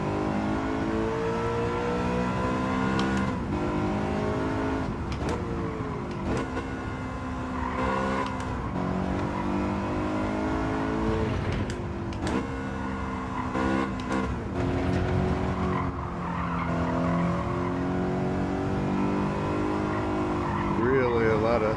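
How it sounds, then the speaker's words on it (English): A BMW race car engine in a racing game at the Autopolis track repeatedly bounces off the rev limiter, a stuttering high-rev drone with shift dips throughout, under continuous commentary. "You hear the rev limiter bouncing constantly."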